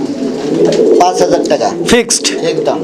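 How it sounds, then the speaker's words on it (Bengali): A pair of black Danish pigeons cooing close by in a loft, a few soft throaty coos heard under a person talking. "আমরা এই মুহূর্তে দেখতে পাচ্ছি একজোড়া কালো ডেনিশ কালো ডেনিশ কবুতর"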